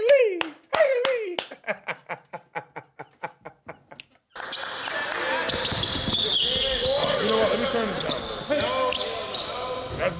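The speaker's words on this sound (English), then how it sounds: "Why is there so much clapping?" Crowd at a basketball game clapping in sharp rhythmic unison bursts, followed by a dense wash of cheering and noisy arena chatter with scattered claps.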